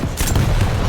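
A rocket impact explodes in a competitive Quake Champions match, one short, loud, close blast with a brief rumbling tail.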